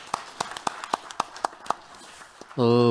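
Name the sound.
audience applause welcoming a speaker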